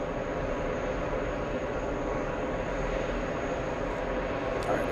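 Amazon Air Boeing 767 freighter arriving at JFK from Cincinnati, a steady broadband engine roar holding at an even level throughout, moderately distant with no voices.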